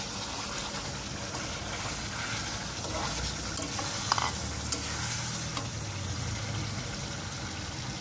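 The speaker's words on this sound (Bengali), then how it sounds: "মশলা কষিয়ে আসছে।" Spice paste cooking in a pan with salt, sour yogurt and shrimp for a prawn malai curry, a dense continuous sizzle and bubbling hiss, close and steady, with a few faint stirring knocks and no voices.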